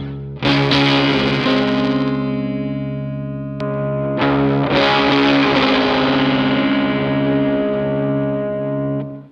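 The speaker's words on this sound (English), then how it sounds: "Let's start with that kind of underdriven sound that we just had." Electric guitar runs through a fuzz pedal set to a mild, underdriven tone: two sustained chords ring out with a slow decay, close and loud, with no voice.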